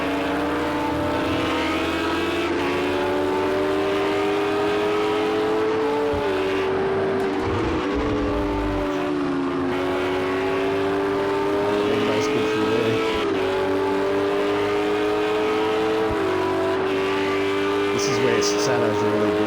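GT3 race cars, including a Ferrari and a Lamborghini, racing at Oulton Park International; loud, sustained engine howl with rising and falling pitch through gear changes and braking, and a commentator talking over it.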